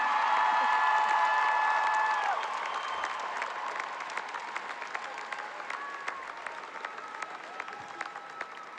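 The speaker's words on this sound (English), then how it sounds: "Let's have a round of applause for the class of 2022." Audience applause at the Manchester Central High School 2022 graduation ceremony, a dense, sustained clapping from a large crowd that starts full and eases slightly, carrying on steadily without talk.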